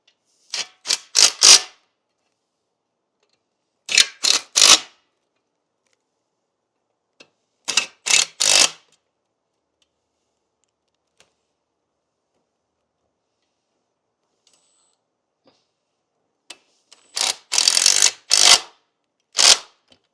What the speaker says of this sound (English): reinstall my 4 3/8 fasteners. I'm going to tighten those all the way